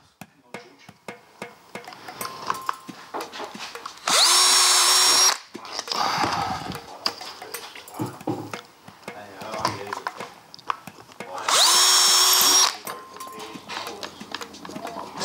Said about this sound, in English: what I'm actually going to do next is to drill a couple of holes through these